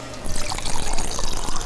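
Liquor poured into a glass, a continuous trickling splash lasting under two seconds, close and fairly loud.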